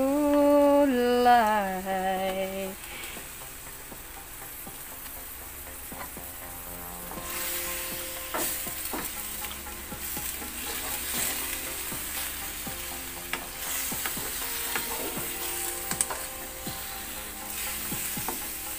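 Vegetables for Filipino pakbet stir-fry in a pan, a continuous close sizzle with scraping and clinking of a spatula, following a short tonal beep at the very start.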